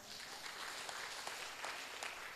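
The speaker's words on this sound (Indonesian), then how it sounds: "Boleh tepuk tangan ya." Applause from a congregation at a Christian memorial service in Lombok, a steady wash of many hands clapping for a couple of seconds at moderate distance.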